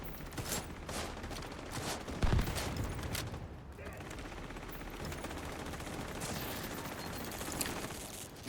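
Synchronized weapon fire in a video game rattles in rapid bursts, with a sharp louder shot near the middle and continuous battle noise behind it. A voice talks over part of the gunfire.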